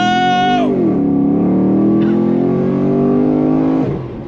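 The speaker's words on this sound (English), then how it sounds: "Nice sound coming from that GM performance exhaust" A 2017 Chevrolet SS V8 sedan with a GM performance exhaust pulls away hard from a dead stop, its loud, close engine note dropping and then climbing steadily through about three seconds of acceleration before easing off.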